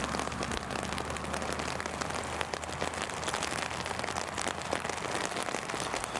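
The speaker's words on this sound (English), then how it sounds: "The rain is easing slightly, believe it or not." Steady rain patters down at Newcastle International Airport, a dense, even hiss of drops striking hard surfaces nearby, with a low hum underneath and no talking.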